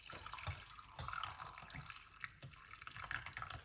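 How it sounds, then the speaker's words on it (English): Moringa tea poured through a strainer into a cup, a soft steady trickle of liquid with small drips and splashes, close and fairly quiet, with no talking. "Get our strainer, pour it off."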